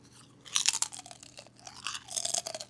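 Homemade kettle cooked potato chips are chewed close up in loud bursts of crisp crunching, a dense flurry, then a pause and a second flurry of bites, with no talking.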